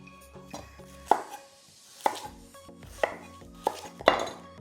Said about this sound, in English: Try and chop it up the same, Cynthia. Garlic.